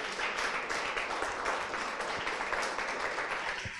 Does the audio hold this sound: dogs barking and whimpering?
no